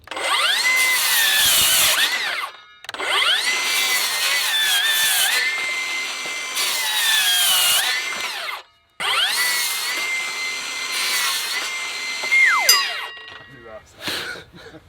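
A cordless circular saw screams through a test cut in three long, loud bursts separated by brief pauses, the motor whine rising and falling as the blade loads, followed by a short final burst.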